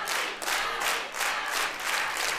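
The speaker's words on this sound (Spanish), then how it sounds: "Camila Vázquez, este aplauso es... Para usted" A television studio audience applauds a contestant, steady dense clapping with some crowd cheering, loud and continuous through the short stretch.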